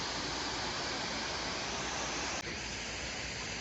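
Steady broadband rush of water cascading down over rock at a clear-water waterfall beside a pool among green trees, a constant close roar with no voices and one brief dip partway through.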